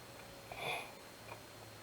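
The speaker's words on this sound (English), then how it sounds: "Just as I sit here and get all the sniffles." A single brief sniffle through a stuffy nose, close and quiet, breaking a silent stretch with a fainter second sniff shortly after.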